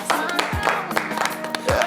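A French television studio audience claps for the returning singer, with loud close claps mixed with brief voices and chatter.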